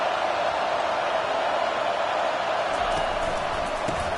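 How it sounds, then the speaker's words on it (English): A large crowd roaring in a football stadium during a Clemson versus South Carolina college game, a loud steady wash of massed voices throughout, with a few sharper cheers and thuds near the end. "listen to the roar of this crowd"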